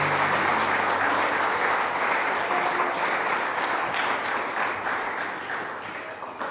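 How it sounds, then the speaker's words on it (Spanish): A church congregation applauds together, a dense, steady wash of many hands clapping that stays loud throughout and eases slightly toward the end, with no talking over it. "Dale un aplauso al Señor."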